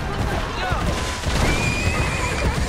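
A horse in Assassin's Creed Brotherhood whinnies loudly while being ridden through the city, with hoof clatter and game ambience underneath and someone talking over it.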